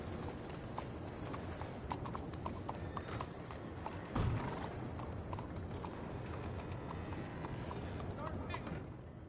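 Steady clip-clop of horse hooves on hard ground with rattling tack and a busy background in the game Red Dead Redemption 2, a low thump midway, continuing throughout.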